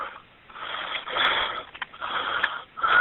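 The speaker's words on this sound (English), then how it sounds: "His breathing is really bothering me." Heavy, labored wheezing breaths from a caller on a 911 emergency line, several rasping inhales and exhales in an uneven rhythm, close and alone over a thin telephone line.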